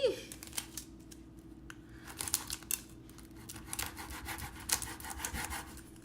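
A blunt knife saws through a crispy chicken sandwich with close, quiet crunching and scraping strokes in quick succession, the crust crackling throughout.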